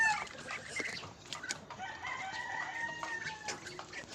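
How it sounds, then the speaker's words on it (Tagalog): A flock of pet ducks calls and squawks repeatedly in close, busy overlapping bursts, with no talking. "Ito nga pala yung mga alaga kong bibe."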